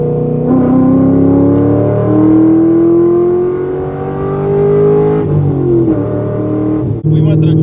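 A tuned Corvette engine revs up toward its raised redline, a loud close-up rising drone that climbs steadily for several seconds, then drops as the revs fall and settles back to idle.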